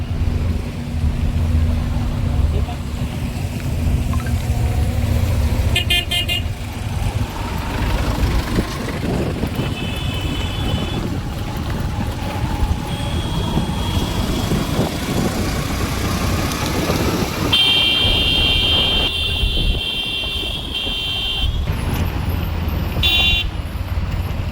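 A sand-laden truck idles in a jammed road, its low engine rumble continuous, with horns tooting in bursts from surrounding traffic and occasional faint voices.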